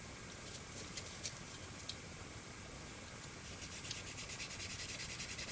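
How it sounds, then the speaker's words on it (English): Sanding off excess glue on a Polar Lights Star Trek Enterprise TOS model kit, a quiet, close rubbing and scratching with short irregular strokes and no voices. "You just sand it off, so you can be a little bit messy."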